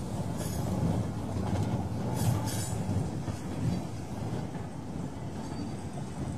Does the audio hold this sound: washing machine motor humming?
no